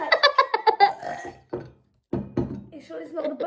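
A single burp erupts partway through a spicy Takis eating challenge, a low rough belch following a run of laughter and chatter, with voices picking up again afterward.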